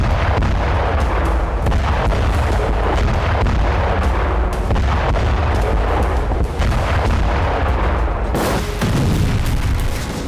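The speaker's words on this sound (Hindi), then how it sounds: "हाई इंटेंसिटी वाले विस्फोटकों से लैस FPV ड्रोन टारगेट को हिट कर जोरदार धमाका करता है" A loud, continuous barrage of rumbling explosive blasts and booms from high-explosive FPV drone strikes in the Russia-Ukraine war, dense and chaotic throughout, with a sharper burst near the end.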